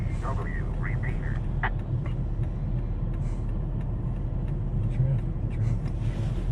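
Steady road traffic rumble in Minot, North Dakota in winter, a continuous low drone of passing vehicles heard from inside, with people chatting over it.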